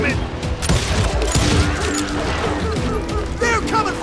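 Rapid gunfire in the video game Call of Juarez: Gunslinger, dense overlapping shots and impacts throughout a loud firefight, with voices shouting amid the volleys.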